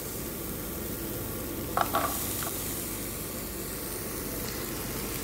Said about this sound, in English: in our pot then we're going to add our onions